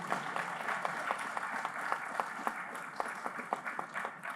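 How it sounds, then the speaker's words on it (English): Audience applause for the speakers at a session on the legal and regulatory framework for space resources, a steady patter of many hands clapping at moderate level, with a few sharper claps standing out toward the end. "I want to invite another round of applause for all our speakers and interventions."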